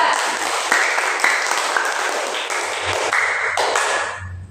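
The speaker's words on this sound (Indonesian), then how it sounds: "beri tepuk tangan dulu kepada kelompok 2" Classmates applaud a presenting group in a classroom, a short burst of moderately loud clapping with some electronic tones and tapping mixed in before it fades out.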